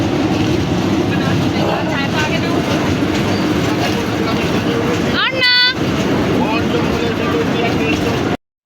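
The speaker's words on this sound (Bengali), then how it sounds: "এই ট্রেনটাতে আমরা সবাই উঠি। এটা একটা ভৌতিক ট্রেন ছিল" A ghost train ride rumbles steadily at an amusement park at a resort, a loud continuous mechanical roar with a short, shrill siren-like wail partway through, and voices talking over it.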